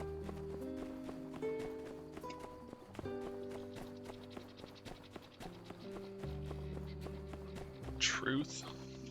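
Rhythmic clip-clop of hooves trots along over synthesized game music, with a bright chime near the end.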